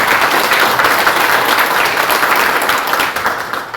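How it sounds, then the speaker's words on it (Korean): Steady audience applause at a Korean political opening ceremony, dense and continuous clapping from a crowd, loud throughout and tapering slightly at the end. "박수 한번 보내주시기 바랍니다."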